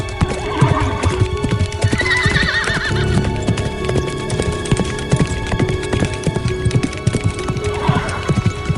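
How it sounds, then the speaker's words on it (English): A magnificent warhorse charging across a battlefield gallops with dense, driving hoofbeats and whinnies loudly several times, close and continuous throughout. "as he charged across the battlefield, seeking military glory aboard his magnificent horse"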